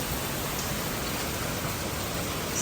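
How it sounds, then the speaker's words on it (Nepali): Heavy rain pours down in Hong Kong during a signal 10 typhoon, a dense, unbroken hiss that stays constant throughout, with no voices. "कत्रो पानी पर्यो।"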